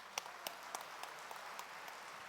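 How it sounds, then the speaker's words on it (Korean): Moderate applause from a church congregation at a spiritual revival meeting welcomes a bishop to the pulpit, with scattered individual claps standing out over a soft, steady clapping bed. "김상현 감독님 나오실 때 큰 박수로 환영해 주시면 감사하겠습니다"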